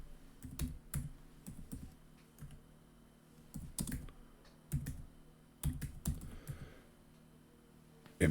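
Computer keyboard typing in a quiet room, with short bursts of close key clicks separated by pauses and no voices.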